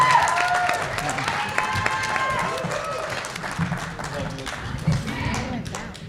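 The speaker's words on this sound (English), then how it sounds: "let's give a big round of applause to our debate." An audience applauds the candidates at a live Nevada state assembly and senate debate event, a broad wash of clapping with some crowd noise and voices mixed in throughout.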